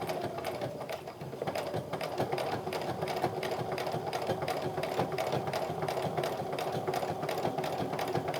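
Sewing machine running steadily, stitching fabric along a pressed center crease while sewing a handmade fabric wallet; a continuous close mechanical whir with rapid needle clatter throughout, no talk.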